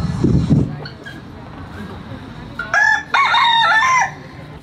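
A rooster crows loudly nearby in a single drawn-out call, following a brief low sound at the start, in a children's theatre performance.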